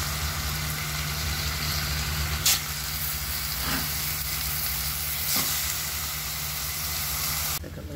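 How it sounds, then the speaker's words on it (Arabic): Onion and chicken fry in a pot, a loud continuous sizzle with a couple of brief clacks from stirring, steady and close throughout. "حمست البصل راح أنزل الدجاج"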